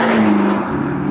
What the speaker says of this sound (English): The engine is in sport mode already, which gives a little bit more noise and a little bit of a sharper response